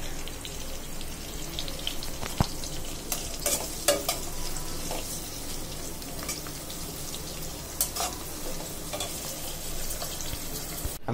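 Shredded cabbage frying in a pan, a steady close sizzle running throughout with occasional scraping and clacking from the stirring utensil, no voices.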